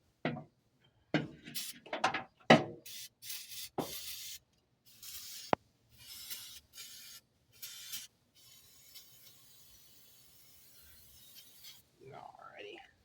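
Repeated short bursts of liquid sprayed onto car power steering parts, hissy and uneven, broken by pauses and a few faint clinks, close by.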